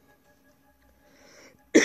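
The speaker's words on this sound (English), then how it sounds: "I'm coughing like I have the disease." A person coughs once, a sudden loud burst near the end after a quiet stretch of soft background sound, during play of the Plague Inc. strategy game.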